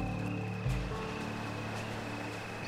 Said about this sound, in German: Ja, hauptsache erstmal schön durchs Wasser hier plätschern.